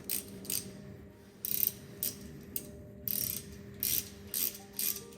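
Ratchet tightening bolts on a Dino gearbox during a rebuild, seven or eight short bursts of rapid clicking close up, separated by brief pauses, with no talking.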